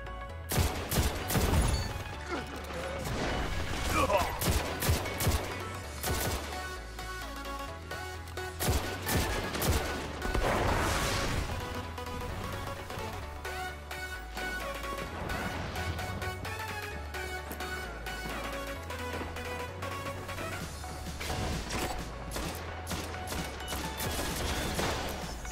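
Jade Rabbit rifle fire in a Destiny PvP match, with bursts of sharp gunshots spread across the clip among steady game sounds and music, no talking.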